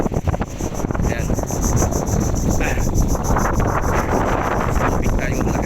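Strong wind buffets the microphone at an outdoor fishing spot, producing constant loud rumbling roar throughout, with faint insect chirps above and a voice speaking under the gusts.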